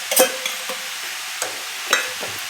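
Spoon stirring coriander leaves into radish chutney frying in oil, a few scraping strokes with soft sizzle, close and fairly quiet, no voices.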